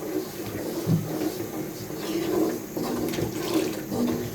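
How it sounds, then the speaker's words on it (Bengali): Water pours and splashes into a pan of spice paste for chicken bhuna, a steady gurgling wash of a few seconds at close range with a slight rise midway. "আমি কিছু পরিমাণ পানি দিয়ে দিলাম।"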